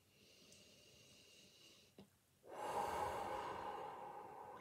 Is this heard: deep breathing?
yes